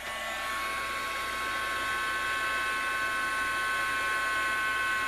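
A heat gun blows hot air over embossing powder on a card, giving a steady loud hiss and whine with an even airflow roar that runs unbroken from start to end, close to the listener.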